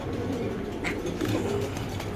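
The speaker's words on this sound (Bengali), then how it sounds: "এখানে আছে একটু সাদা শৌখিন কবুতর" White fancy pigeon cooing in a loft, soft low coos over a steady background murmur of other birds.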